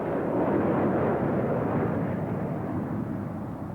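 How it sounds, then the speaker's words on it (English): A Saab jet trainer of the Austrian Karo Oss aerobatics team roars through a display, a loud, broad, continuous engine rush that slowly fades toward the end. "The Austrian Karo Oss Aerobatics Group perform in the Saab, which is capable of over 600 miles per hour"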